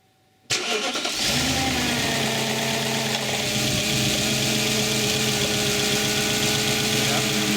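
An Audi S4 B6 with a 4.2 V8 fires up after a moment of silence, then settles into a steady, loud, rumbling idle held close to the car for several seconds.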